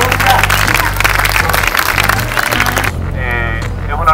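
A crowd at a teachers' strike rally in San Luis, Argentina claps loudly under voices and chanting, then the sound thins abruptly near the end.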